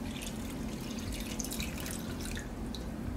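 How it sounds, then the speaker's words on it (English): Water pours steadily from a pitcher into a sous vide container, a continuous splashing trickle that stays close and even throughout with no talk. "I am going to get a pitcher and pour more water in"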